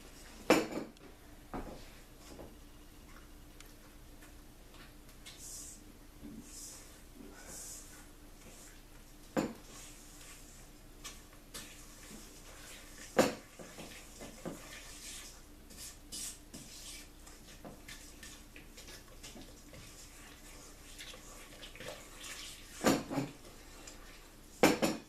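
Pumpkin pie mixture stirred in a bowl, soft scraping and occasional sharp clinks of a utensil against the dish, close but fairly quiet, with long stretches of gentle rubbing.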